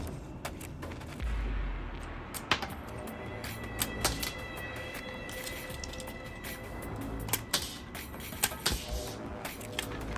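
LEGO flick-firing missiles on a toy plane's wings being launched, a few sharp light plastic clicks and snaps scattered across the stretch, close and otherwise quiet.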